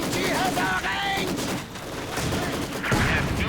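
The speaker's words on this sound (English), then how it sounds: "So the light machine gun is then going to tear into them point blank." Light machine gun fire in Company of Heroes 2 during a 2v2 match: dense, continuous rattling bursts with booming impacts, heard up close alongside other battle noise and some overlapping voices.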